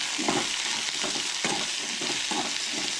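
Onions frying in a pan for Goan egg curry with coconut, a dense continuous sizzle broken by regular rhythmic stirring scrapes about every half second, close and loud, with no talking.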